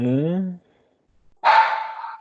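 A dog barks indoors at home, one loud drawn-out bark after a short pause that follows a voiced sound, close to the listener and fairly harsh.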